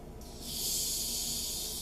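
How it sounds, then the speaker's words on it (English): A Pepsi Blue cola bottle cap is cracked, releasing a sharp, steady hiss of escaping gas that rises quickly and holds, close up. "Now that was the hiss of a good cola, I hope."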